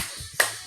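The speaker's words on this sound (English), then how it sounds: "Clap it out" A single sharp hand clap, close and crisp, standing out from a quiet background.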